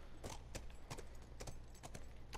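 Horse hooves clip-clopping at a slow walk in The Last of Us, a steady series of distinct hoof strikes over low ambient background, with no talking.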